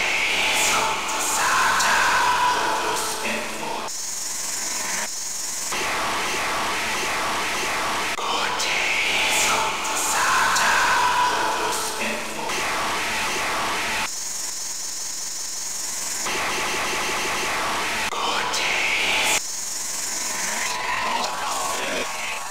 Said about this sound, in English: There's massive white noise.